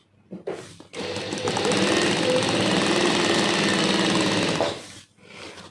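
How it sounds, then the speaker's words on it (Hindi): Sewing machine stitching fabric in a beginner stitching class, one continuous fast mechanical whirr of about four seconds, close and fairly loud, with a brief start burst and a stop at the end. "ऐसे ही आपने सिलाई लगाते जाना है।"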